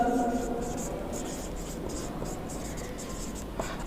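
Chalk or marker strokes on a classroom board come as a run of short, repeated scratchy taps, quiet and close, under a faint background hum, with a single sharp tap near the end.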